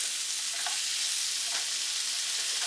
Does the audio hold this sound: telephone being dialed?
no